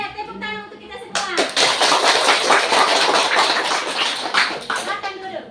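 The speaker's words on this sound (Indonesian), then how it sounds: "Oke, tepuk tangan untuk kita semua." Classroom applause, a dense burst of many hands clapping that swells for about three seconds and then fades, with voices talking just before and after.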